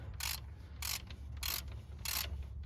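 Socket wrench ratcheting under the hood of a 1990 Chevy truck, four evenly spaced bursts of rapid clicking, close and fairly quiet, with short pauses between strokes.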